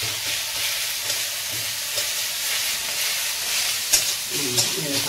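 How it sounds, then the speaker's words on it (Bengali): Bottle gourd leaf paste with garlic frying in a pan, giving a steady close sizzle and crackle with a few sharper pops and stirring clinks near the end, no talking. "আস্তে আস্তে জলটা একদম মরে যাবে, ভাজা ভাজা হবে"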